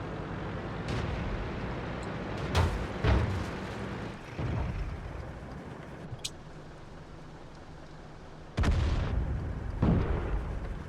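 Tank guns firing in the World of Tanks video game boom in a few heavy bursts over a low engine rumble, including a distant thud and two close, loud blasts, with quieter stretches between.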